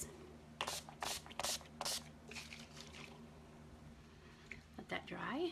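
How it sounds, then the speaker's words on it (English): Setting spray misted onto the face in several short, close hissing bursts of about a second each, quiet and separated by pauses, with soft talk. "Okay, so I am going to use our setting spray."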